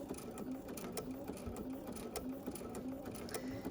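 A sewing machine stitches a quilt with a wobble stitch, its needle running in a fast, even mechanical chatter that is fairly faint and close.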